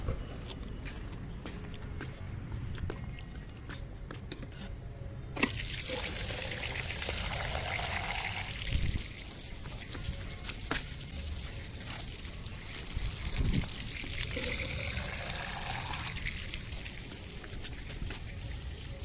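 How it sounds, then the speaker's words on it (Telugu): Water poured onto potted plants makes a continuous trickling splash for the whole stretch, moderately close, with occasional footsteps and shuffling underneath. "కొంచెం వాటర్ పోద్దాం."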